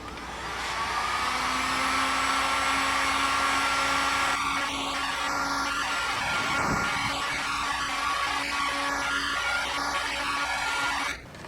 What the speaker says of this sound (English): with my heat gun, this took about you know, maybe a minute or two to get this all warm